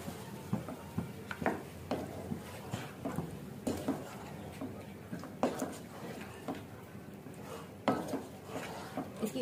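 A spoon clinks and scrapes against a pan while turmeric powder is stirred into food, making irregular soft taps and clatters close by at low volume.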